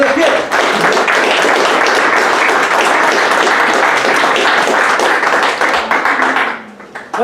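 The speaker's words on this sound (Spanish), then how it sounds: "Denle un aplauso al Señor para que despierte." Congregation applause at a church service, a sustained dense burst of clapping that fills the room for several seconds before tapering off near the end.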